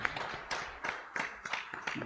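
A church congregation applauds briefly, a soft, fairly distant patter of clapping in an uneven rhythm, with no talk over it.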